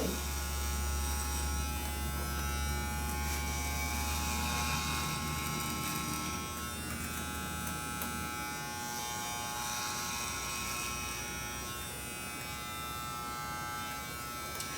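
Electric hair clippers buzz steadily at close range while cutting a man's long hair, a continuous motor drone that shifts slightly in tone partway through as the passes continue.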